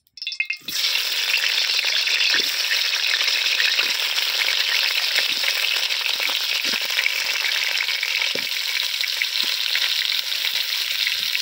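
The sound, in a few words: potatoes frying in hot mustard oil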